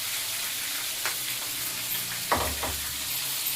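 Green chillies sizzling in hot oil in a pan for tamarind sambar, a steady soft frying hiss with a few brief stirring scrapes.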